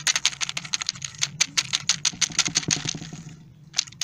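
Keys clatter on an unbranded computer keyboard, with rapid, uneven close-up typing bursts, a short pause near the end, then a few more presses.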